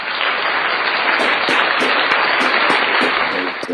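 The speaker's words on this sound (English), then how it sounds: "Let's give a round of applause to Goose Park." A dense round of applause, loud and steady clapping from an audience for a guest, with a few sharper whoops or cheers rising through it.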